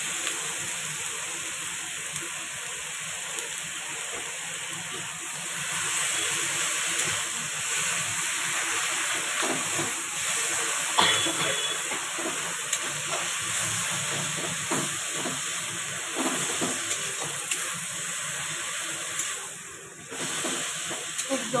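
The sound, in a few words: stirring boiled taro leaves (kochu saag) frying in a pan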